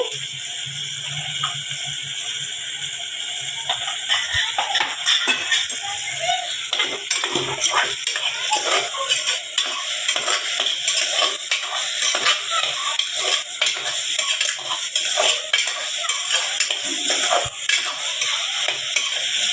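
Mustard seeds hit hot oil in a pan where dal is browning, giving a steady crackling sizzle with sharp popping spatters all the way through, loud and close with no voices.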